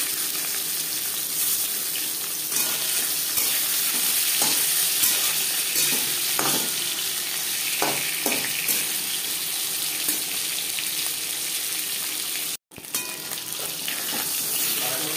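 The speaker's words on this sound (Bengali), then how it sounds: "দিয়ে দেব ম্যারিনেট করে রাখা" Marinated pangas fish frying in about three spoons of hot refined oil, a loud, continuous close sizzle with faint clinks and a brief dropout near the end.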